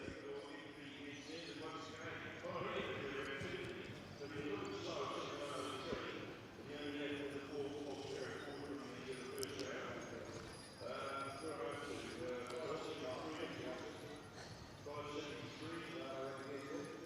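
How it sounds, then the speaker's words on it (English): Thoroughbred horse's hooves clip-clop steadily on the arena surface at a showground hack competition, a moderate rhythmic beat heard beneath continuous commentary from a man over a public address. "So DP Amazing, the horse that we are about to watch work out here"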